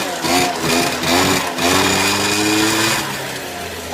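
Peugeot Speedfight scooter engine running steadily just after a kickstart, a buzzy, continuous small two-stroke drone with a faint dip in pitch midway, close and loud with no talk.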